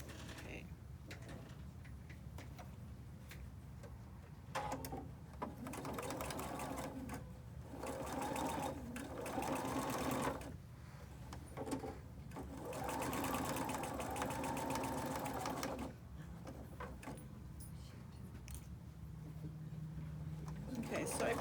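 A sewing machine runs in bursts, stitching fabric right up to a pin and pausing between runs, its mechanism whirring up close while a person talks over parts of it.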